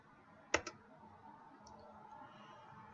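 Computer mouse giving a quick double click, two sharp close taps in succession, followed by a faint tick in an otherwise quiet room.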